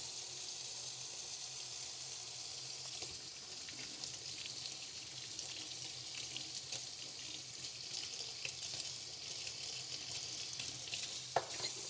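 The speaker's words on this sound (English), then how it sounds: "You gotta like really make sure you get water in flowing through these things here." Water runs steadily from a kitchen faucet into a sink while parts are rinsed clean, giving a continuous hissing splash with occasional clatters and knocks near the end and no voices.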